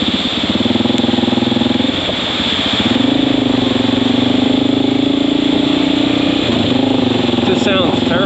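A Honda XR650L motorcycle with an exhaust missing its packing runs steadily at close range, a loud rattly idle that rises slightly in pitch, with someone talking over it.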